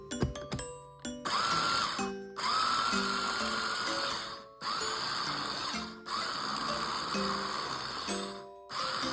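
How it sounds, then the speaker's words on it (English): Food processor blending cashew pesto with grated Parmesan, a loud close motor whirring in three long runs separated by brief stops, after a few short clicks at the start, with no talking. "Slightly blend a while using the food processor."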